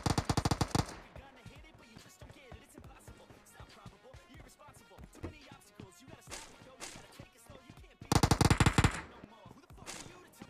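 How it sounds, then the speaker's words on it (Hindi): Gunfire in the video game PUBG: loud rapid bursts of automatic fire at the start and near the end, with scattered shots and footsteps between and a voice talking over it. "मुझे यहां से गन शॉट्स आ रहे थे"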